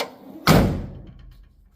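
The door of a 1974 Porsche 914 under restoration swings shut with a single loud, close thud that rings out and fades over about a second, with no talk.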